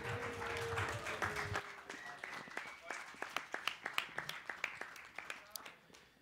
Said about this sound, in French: Donc, on peut applaudir deux participants, les finalistes.